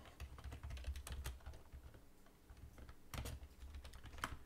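Fingers type on a computer keyboard in quiet bursts of quick, light key clicks, pausing briefly before another run of keystrokes.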